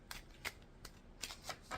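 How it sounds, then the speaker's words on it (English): A deck of angel cards is shuffled by hand, giving a series of crisp riffling bursts in an uneven rhythm, close and fairly clear, with no talking. "so shuffle and we'll grab the bottom of the deck"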